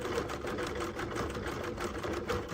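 A sewing machine stitching small flower centers on a quilt runs at a steady, fast hum throughout, close and continuous with no talking.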